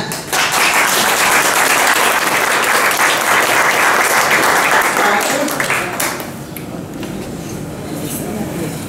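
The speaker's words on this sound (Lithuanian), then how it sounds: "Už pakvietimą esame dėkingi visi, plojame." A crowd at a jubilee celebration in a garden claps loudly and continuously, then the applause thins and softens toward the end.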